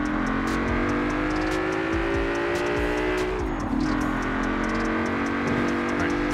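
Ford Mustang in Forza Horizon 4 revs hard, its engine and exhaust droning loud and continuous with rising and falling harmonics and a sharp pitch dip midway, racing-game sound effects layered over it.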